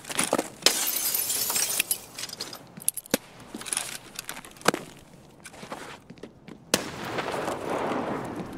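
A grenade goes off in Escape from Tarkov, one of several sharp, loud cracks scattered among crunchy debris, footsteps and rustling movement, with brief quiet gaps between the bursts.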